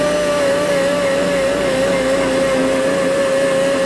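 An Azkoyen Vitale S espresso vending machine hums loudly and steadily with a whining motor tone while making a powdered-milk latte, an unbroken mechanical drone throughout.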